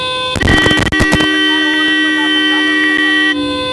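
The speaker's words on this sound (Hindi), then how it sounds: "इस प्रकार हॉर्न बजाकर, शोर मचाकर जगेगी सरकार?" Protesting farmers in India lean on their vehicle horns, which blare in a loud, sustained, multi-toned honk for about three seconds after a brief burst of clattering noise at the start.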